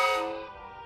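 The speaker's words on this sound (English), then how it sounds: "You ever hear my whistle?" Whistle of an old machine character, a single harmonic tooting blast like a train whistle, loud at first and fading over under a second.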